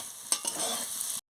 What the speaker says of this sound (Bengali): দেখেছেন কি সুন্দর ভাজা হয়ে গেছে ছাতু